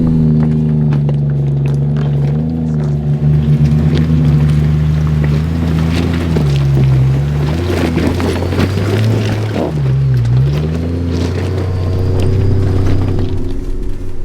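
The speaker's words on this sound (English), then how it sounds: "Rear locker on, first gear low, steady throttle" A turbo Barra-powered Land Cruiser grinds up a rough 4WD track in Sundown National Park in low first gear with the rear locker engaged. The engine drones loud and steady, pitch dipping and rising under load, with no voices.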